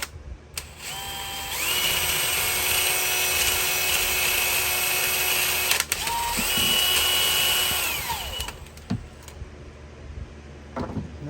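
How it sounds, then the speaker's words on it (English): A power drill runs on high speed with a brush attachment, scrubbing debris off the cylinders of a two-stroke jet ski engine. It makes a long whining spin, briefly drops off mid-run, revs again, then winds down with a few mechanical clicks. "Put your drill on high."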